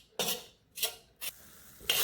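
Dry gram flour (besan) is stirred and roasted in a pan, giving four short scraping strokes spaced apart, close and fairly quiet, with no talk.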